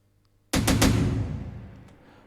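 A single Afro house percussion hit sample: a sharp attack with a few quick flam-like repeats, then a ringing decay that fades out over about two seconds, alone in near silence.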